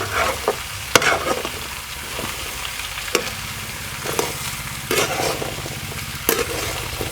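Pumpkin vegetable sizzling in a pan as it is stirred with a spoon, a steady soft frying hiss punctuated by repeated sharp scraping clinks against the pan.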